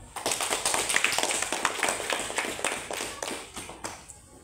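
Audience applause at a school teacher-training dissemination event at SDN 11 Palangga, a steady patter of many hands clapping together that lasts the whole stretch and fades slightly at the end.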